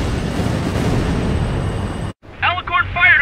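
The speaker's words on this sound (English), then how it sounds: "Alicorn fired on her with the railguns." Railgun fire and explosions in Ace Combat 7 during a naval battle: a dense, loud roaring rumble of blasts fills the first two seconds, cuts out abruptly, then gives way to someone speaking over continued low rumbling.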